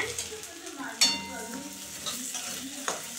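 Sonamukhi mung dal fried lightly in a pan while it is stirred: a soft sizzle with scraping stir strokes and a few sharp clinks of the spoon, heard close up.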